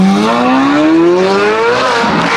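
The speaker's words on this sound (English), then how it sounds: "These new Z06s, they sound crazy." A Chevrolet Corvette Z06 engine revs hard and climbs in pitch, loud and close, with a throaty roar and no voices.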